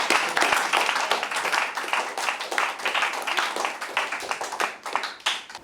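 Students at an intraschool debate at HighScope School, Ojodu, Lagos, break into lively, close applause, with many quick hand claps overlapping in an uneven rhythm that fades slightly toward the end.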